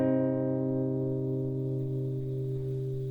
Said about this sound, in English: you pluck all strings together from the 2nd to the 5th string